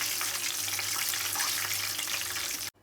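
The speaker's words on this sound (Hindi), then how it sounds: "हमारा दूसरा बैच फ्राई हो रहा है" A second batch of spicy chicken drumsticks fries in hot oil, giving off a steady, dense crackling sizzle that stays close and loud the whole way through, then cuts out abruptly at the very end.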